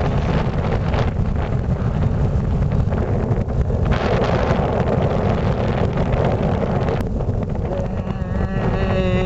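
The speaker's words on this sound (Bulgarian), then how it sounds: "Какъв вятър тук." Strong wind on a mountain in the Stara Planina range buffets the microphone in a loud, constant roar with gusty low rumble and no pauses.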